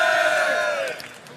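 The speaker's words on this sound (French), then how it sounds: "On l'applaudit" A convention crowd at Japan Expo 2009 cheers and whoops loudly in a dense, sustained roar that eases off toward the end, with some voices mixed in.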